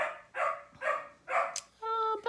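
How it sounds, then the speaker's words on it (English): A rescued puppy, a very vocal young dog, gives three or four short bursts of barking in a steady rhythm, fairly close, followed by a higher drawn-out whine or yelp at the end. "Do you hear my puppy barking?"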